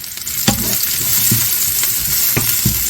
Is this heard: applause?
no